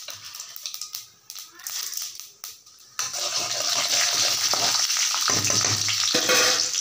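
Mustard seeds and split urad dal drop into hot oil, and a loud, close, steady sizzle with crackling takes over after a few seconds of quieter handling sounds and a voice.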